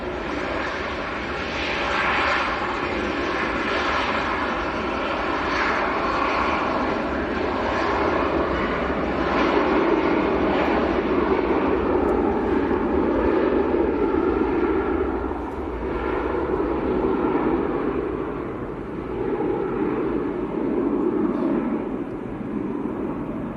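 Aircraft at Manchester Airport on a flight to Corfu, a steady broad engine roar holding for the whole stretch without talk, swelling slightly in the middle.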